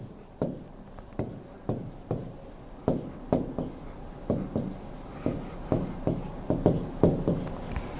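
A teacher draws on a board during a chemistry lecture, with sharp, close strokes tapping and scratching in an irregular rhythm, about twenty distinct marks across the stretch.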